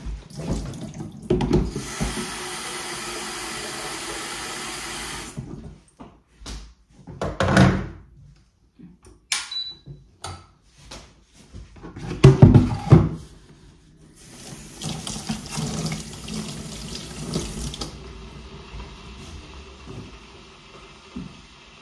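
Tap water runs into a sink in steady stretches, broken by clunks and a door-like thud, with no talking over it.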